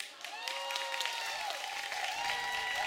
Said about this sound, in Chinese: 接下来我们要介绍我们的乐手，掌声鼓励